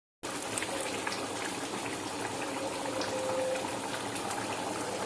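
Water for chicken pulao boils steadily in a cooking pot, a constant bubbling hiss that stays even and close throughout.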